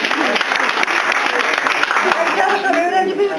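Dense, steady applause from a crowd at a literacy-teaching event in Tufanbeyli, continuous and loud with voices faintly mixed in beneath the clapping.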